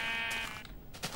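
A single sheep bleats in a Minecraft-style video game, a short, nasal, buzzy call close up and alone, trailing off into quiet.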